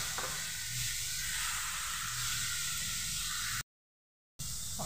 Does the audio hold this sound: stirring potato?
yes